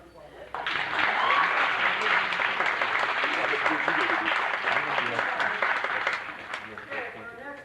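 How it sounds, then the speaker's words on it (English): A college talent show audience in Edmonton breaks into sustained applause after a brief quiet start, staying full and steady for several seconds before tapering slightly near the end. "Let's give him another round of applause."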